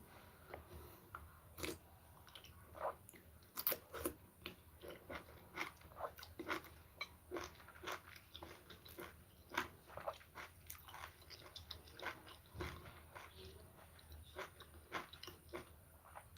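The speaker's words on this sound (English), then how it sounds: "Let me take the mushroom first of all and eat the mushroom so you see." Crunchy bites and chewing of freshly harvested wild oyster mushroom, a steady run of sharp crackling bursts at close range, with no talking.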